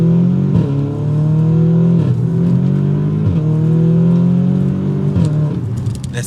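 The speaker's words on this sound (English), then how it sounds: "Hit the exhaust. Yeah, it crackles a little bit, doesn't it?" An Audi S3 exhaust revs loudly in repeated rising-and-falling sweeps, roughly four throttle blips over several seconds, with faint crackles as the revs drop, heard close from outside the car.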